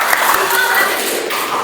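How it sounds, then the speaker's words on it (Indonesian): A class applauding in a school lesson, a dense burst of clapping that carries through the whole moment, close and fairly loud, with voices mixed in beneath it. "tepuk tangan dulu ya"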